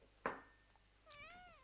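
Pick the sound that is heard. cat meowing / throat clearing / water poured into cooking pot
cat meowing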